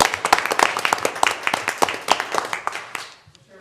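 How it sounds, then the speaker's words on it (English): Scattered hand claps ring out at a county commission meeting, loud and uneven at first, then thinning to a few sparse claps before fading out. "How about a great round of applause for that thing?"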